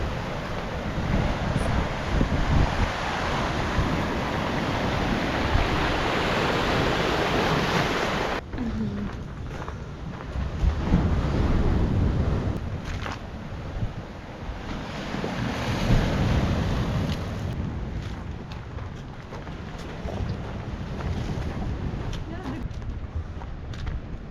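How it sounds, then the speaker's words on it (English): Surf washes and breaks continuously nearby on the Fife coast in Scotland, mixed with heavy wind buffeting the microphone; no voices are heard. "Look at the waves. Crashing, splashing."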